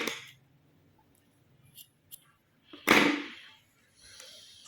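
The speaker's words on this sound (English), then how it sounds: "Now cut off the excess yarn." Scissors snip through leftover yarn after knotting a two-toned crochet bow, giving a sharp close cut near the middle, with a few faint clicks before it and a softer rustle near the end.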